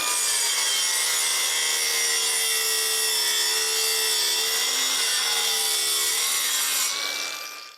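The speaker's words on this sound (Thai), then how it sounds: "ตัดไม้สบายอยู่แล้วนะครับ" A steady, continuous rasping diamond saw blade cut through wood, loud and close, grinding for several seconds before tapering off at the end.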